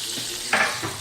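Chops sizzle and fry in a pan, with a brief stirring scrape partway through; short and close.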